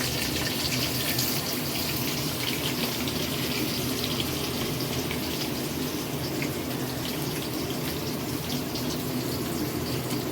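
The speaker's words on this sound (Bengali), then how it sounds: "এই যে চাউল ধুয়ে রাখা হচ্ছে, পোলাপ চাউল" Running tap water pours steadily as polao rice is washed in a kitchen, a loud constant splashing gush that continues without pause and with no one speaking.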